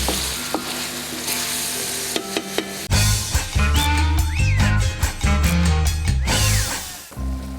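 Boiled noodles sizzle loudly in a hot wok with soy sauce and tonkatsu sauce as they are stirred and tossed. Clanking strokes of the utensil land against a constant frying hiss.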